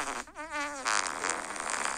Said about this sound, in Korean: 젠틀방귀